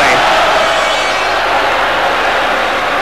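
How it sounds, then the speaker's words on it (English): Belfast boxing crowd at a world flyweight title fight, a dense continuous roar of cheering and shouting that fills the arena steadily from start to end. "And this Belfast crowd trying to rouse McAuley"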